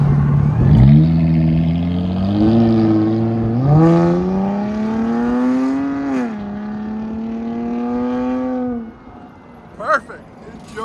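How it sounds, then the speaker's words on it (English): A 2022 Dodge Charger 3.6L V6 with BIGBOZ mid mufflers, rear delete and 5-inch tips revs up in rising steps, loud and close, holding a raspy high pitch before dropping back, with a brief voice near the end. "'22 Dodge Charger V6 with BIGBOZ mids, rear delete, 5-inch tips"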